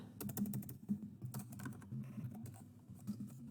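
Rapid, uneven clicking of keys on a computer keyboard, close and fairly quiet, with short bursts and brief pauses as a math transformation is entered.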